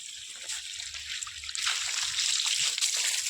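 Water running onto a garden lawn gives a steady, fairly close hissing spray that swells louder halfway through and stays even, with no talking.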